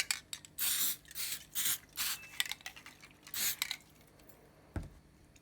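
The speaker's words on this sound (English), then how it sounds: "I'm going to spray the back with a wee bit of glue so that these pieces will stick, because this is contact glue." Contact glue sprayed from an aerosol can onto the backs of craft pieces for an entry table, heard as a series of short hissing bursts of varying length, close and fairly quiet, followed by a soft knock.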